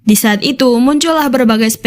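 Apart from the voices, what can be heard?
No everyday noise stands out behind the speech.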